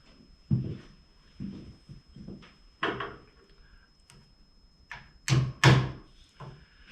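Wooden peg being knocked into a sash window joint, a series of irregular dull thuds and knocks, some louder blows near the end, close and alone.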